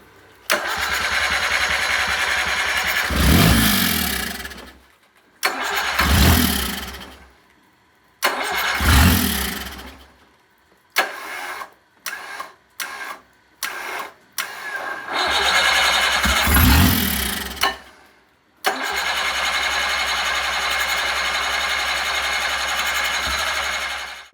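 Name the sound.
Sea Ray 370 Sundancer boat engine starting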